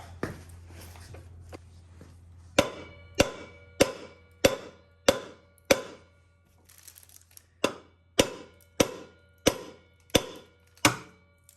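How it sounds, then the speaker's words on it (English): Light hammer taps strike the axle end of a 1996 Honda TRX90 ATV, a steady series of about a dozen sharp metallic clicks evenly spaced after some quieter fiddling, close and fairly clear over a faint hum. "we could even really tap on the end of the axle here and try and push the axle out"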